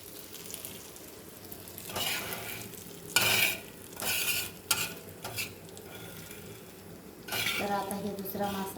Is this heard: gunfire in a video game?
no